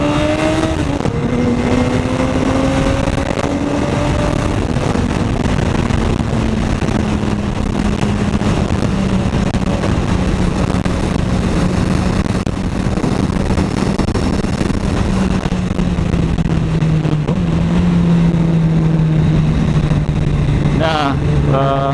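Honda CBR 1000RR 20th Anniversary sport bike engine running on light throttle, a steady loud drone with slowly shifting pitch and a brief rev near the end, with wind and road noise around it.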